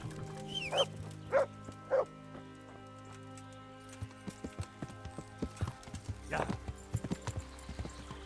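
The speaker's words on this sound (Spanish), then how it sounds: "O sea que me voy en caballo mejor." Horse hooves clip-clop while riding in Kingdom Come: Deliverance, a quick steady trot of light impacts, with a few louder sounds early on and a voice briefly near the end.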